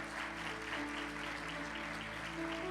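A church congregation applauds together in a steady, continuous wash of clapping, with sustained musical tones held underneath throughout.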